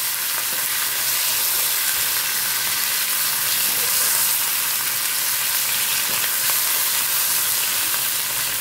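Food frying in a kadai hisses and sizzles loudly and continuously at close range, with a steady dense crackle and no voices.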